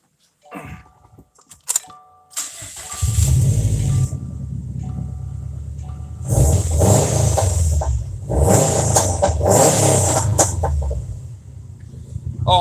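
A car engine cranks over, catches and revs during damper testing, with a few short clicks first, then loud sustained running punctuated by repeated surging revs, close by and with no talking.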